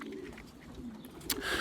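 A well-bred pigeon in a loft gives soft, low coos at close range, with faint rustling and a brief sharper sound near the end.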